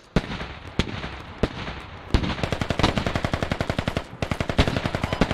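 Machine gun fire in the tactical shooter game Squad, with a few separate sharp shots and then long rapid bursts of loud, evenly spaced rounds, close and dominant.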